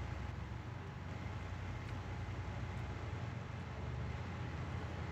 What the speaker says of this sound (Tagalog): Ang bagal ng kotse ko.